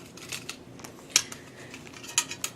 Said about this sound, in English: I have a small pair of folding scissors.